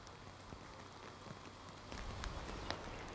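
Steady rain falling on an outdoor surface, a dense even patter of drops that swells slightly louder toward the end, with no voices present.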